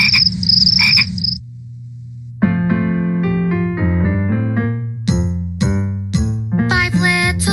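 Cartoonish frog croaks sound in a quick rhythmic series, loud and close, with a short tinkling jingle at the start and toned croaks stepping in pitch through the rest.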